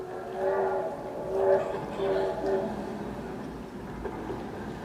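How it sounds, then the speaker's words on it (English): A train horn sounds in several drawn-out blasts, distant and echoing, over a steady rumble of rail noise, with faint voices in the background. "Whenever I hear that train coming into town"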